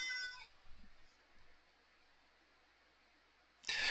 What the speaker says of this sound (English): I don't know if you can hear my cat, but he really wants to go outside right now.